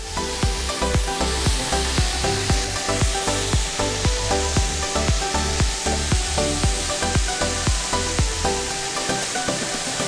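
Pirarucu fish pieces sizzling steadily in a hot pan while being turned one by one for a caldeirada, with a dense frying hiss and repeated soft clicks and taps of the utensil throughout, no talking.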